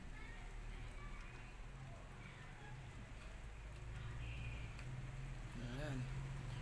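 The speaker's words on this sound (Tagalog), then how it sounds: "Kaya napakalakas ang buhos ng ulan." Heavy rain pours down hard in a storm, sheeting water down glass and driven by wind, as a steady, dense hiss that fills the whole stretch, with a brief faint tonal sound near the end.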